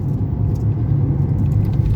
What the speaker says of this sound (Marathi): पप्पा गाडी चालवत आहेत